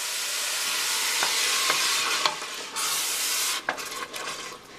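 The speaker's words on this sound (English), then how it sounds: "So I'm going to add in all 3 cans and stir that up." Three cans of fire-roasted diced tomatoes stirred into a sausage sauce, a steady wet sizzle with a few soft scraping knocks of the spoon against the pot.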